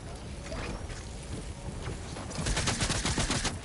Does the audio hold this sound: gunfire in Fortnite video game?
yes